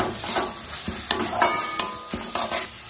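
Spice masala with a splash of water and garam masala being stirred and sautéed in a pan, a spoon scraping in repeated strokes over a steady close sizzle, no voices.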